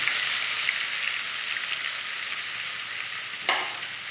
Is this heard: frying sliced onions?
yes